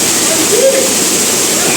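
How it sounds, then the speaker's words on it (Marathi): Somtirth waterfall at Nivendi village in Konkan pours in a steady, loud, close rush of flowing water that fills the whole stretch without pause. "निवेंडी गावातील सोमतीर्थ धबधबा"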